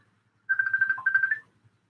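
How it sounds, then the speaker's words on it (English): A phone ringtone for an incoming call plays a short melodic electronic phrase for about a second, clear and fairly close, over a faint low rhythmic hum with no talking. "I got a phone call."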